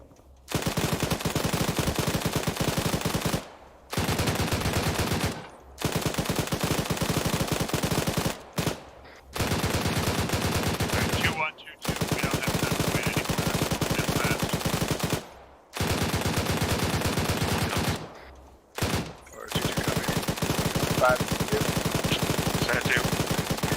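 Sustained machine-gun bursts in a military video game rattle loudly and almost without pause, broken by a few brief gaps between long automatic volleys.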